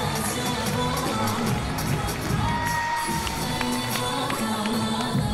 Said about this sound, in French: Et le public qui acclame Marco